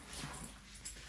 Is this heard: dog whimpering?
yes